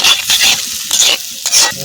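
Onions frying in a pan for village-style veg chowmein, with repeated scraping stirs in bursts about every half second over a steady close sizzle, no voices.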